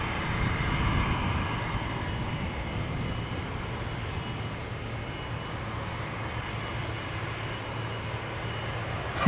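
A brand-new Bombardier C Series CS300 airliner, registration YL-ABR, takes off from Schiphol's Polderbaan runway. Its jet engines make a steady, fairly distant roar that holds evenly throughout.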